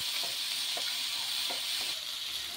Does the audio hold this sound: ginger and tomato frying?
yes